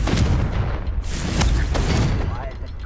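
Fiery blasts from the Confringo spell in Hogwarts Legacy, with a loud, sharp burst about a second in and further explosive cracks over dense, booming game background.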